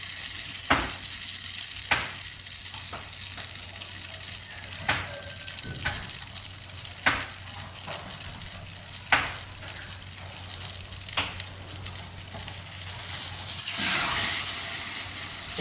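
Eggplant frying in reused cooking oil in a pan gives a steady sizzling hiss throughout, broken by several sharp crackles and spatters, with the hiss swelling louder near the end.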